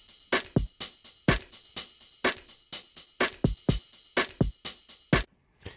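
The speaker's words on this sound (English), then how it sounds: "I'm currently checking out this drum loop here" Drum loop from Hit Life Kit 8 in the Momentum software, a steady pattern of kick and snare hits with bright hi-hats, dry and up close, lacking much low-end weight and stopping abruptly before the end.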